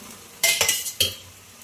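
Spicy Gujarati rotlo fries in oil in a pan while being stirred and turned, a few quick scraping clatters of a utensil over a soft sizzle, close and brief.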